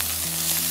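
German sausage frying in a pan gives a brief, steady, close sizzle with no voices.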